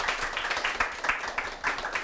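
An audience at a lecture show applauds as an SNS marketing lecturer named Jeong Jin-su is welcomed. The clapping is steady and moderately full and continues without break.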